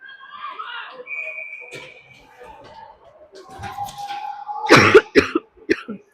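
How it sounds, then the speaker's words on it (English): A hockey game commentator coughs sharply, close and loud, into the microphone after a stretch of quiet mumbling and faint whistling sounds. "I just coughed right into that."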